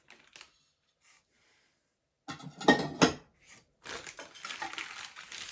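Ceramic plates clink and scrape as they are handled, with a few sharp knocks followed by a longer stretch of rattling crockery close by.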